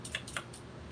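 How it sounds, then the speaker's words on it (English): Scissors snipping the edge of a t-shirt to make binding tape for a crazy quilt coaster: two or three quick, crisp cuts close to the microphone in a quiet room. "get your scissors."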